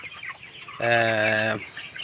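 A flock of 22-day-old broiler chickens on a poultry farm chirps faintly, then one bird lets out a single loud, drawn-out call lasting under a second, close by.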